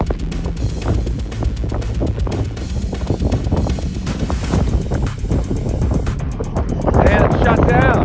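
A budget DeeRC 1217 RC truck makes a speed run into the wind, its motor whining under heavy, steady wind buffeting on the mic, and a high rising whine comes through near the end.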